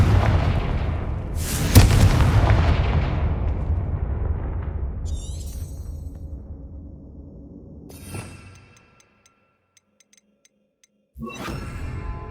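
Explosive Confringo blasting spells in the Hogwarts Legacy game: a loud near burst at the start, a long rumbling decay, a second blast around eight seconds, then silence before another burst cuts in.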